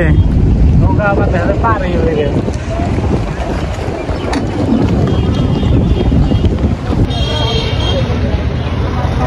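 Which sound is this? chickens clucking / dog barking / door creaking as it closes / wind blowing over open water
wind blowing over open water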